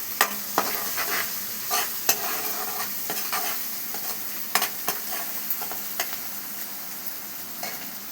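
Garlic paste sizzles in a hot pan while a spoon stirs and scrapes it, with repeated sharp clacks over a steady frying hiss, close and without speech.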